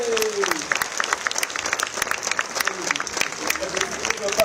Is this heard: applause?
yes